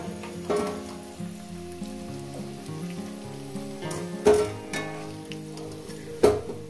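Boiled potatoes sizzle steadily in hot oil at medium heat, with a few sharp clinks and scrapes as pieces are lifted out; close, continuous frying hiss with occasional louder knocks.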